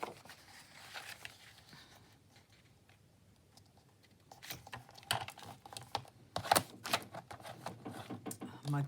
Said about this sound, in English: let me do it with my trimmer so we can get the lines straight as we can anyway